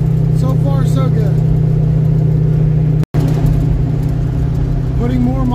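A Ford Mustang project car cruises along a road at night, its engine droning steadily from inside the cabin with a constant low hum, broken by a brief dropout midway.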